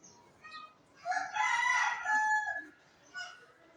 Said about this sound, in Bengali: মুরগুর ডাক অনেক ভালো লাগে